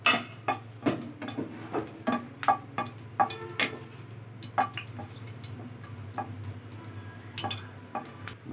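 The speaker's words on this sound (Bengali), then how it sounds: "মরিচটা একটু লাল লাল করে ভেজে নিচ্ছি" Chilies frying in oil in a pan while a spoon stirs them, with irregular scraping ticks and clinks over a low, steady sizzle, close and fairly quiet.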